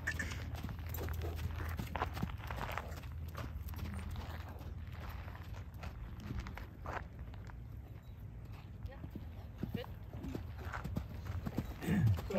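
A dressage horse moves freely at a ranch presentation, its hooves clip-clopping in a steady, even rhythm. The sound is faint and somewhat distant over a low background rumble.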